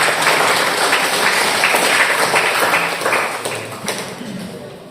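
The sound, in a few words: applause from training participants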